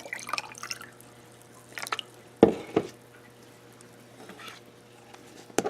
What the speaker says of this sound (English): And then add some water, fill it to the top.